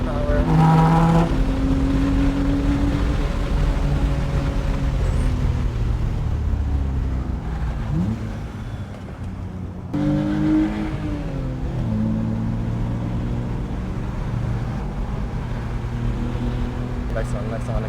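A race car engine drones loudly from inside the cockpit on Sonoma Raceway among Porsches and Ferraris, its pitch rising and falling through gear changes and lifts, continuous for the whole stretch with a brief dip in the middle.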